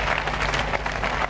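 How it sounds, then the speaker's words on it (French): Studio audience at a French television variety show breaks into loud, dense applause, a continuous roar of many hands clapping at close range for the whole short moment. "On peut l'applaudir très fort."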